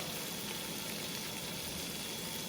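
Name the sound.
red wine sizzling in a hot pan for meatballs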